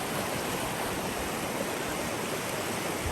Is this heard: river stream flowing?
yes